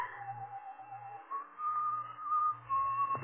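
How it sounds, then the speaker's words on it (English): A man whistles a slow, wavering tune somewhere inside a building, a thin melodic line sustained over a faint low hum, in a tense radio-drama scene. "The whistling was somewhere in the building."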